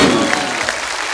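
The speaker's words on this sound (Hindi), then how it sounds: "एक बार जोरदार तालियां हो जाए आपके फैंस यहाँ पे।" Studio audience on a TV comedy talk show claps loudly in a dense, continuous burst of many hands, close and bright with no speech on top.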